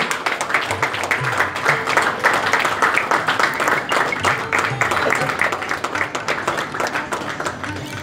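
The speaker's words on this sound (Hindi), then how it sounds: "तो जरा तालियों की गूंज और भी बढ़ जानी चाहिए यहाँ पे।" A crowd at an Indian Bottled Water Day 2017 event in Mumbai keeps up continuous clapping for several seconds, dense and even, with voices talking over the applause.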